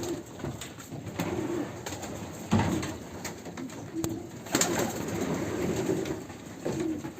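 Racing pigeons, including Ardennes-line birds, coo softly and steadily inside a pigeon loft, with a few rustles and a faint rumble in the background.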